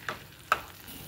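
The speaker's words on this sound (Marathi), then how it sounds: "सतत हे पुरण परतत राहायचे" Puran being stirred and sautéed in a nonstick kadhai, two soft scraping strokes a moment apart, faint and close with a low background hush.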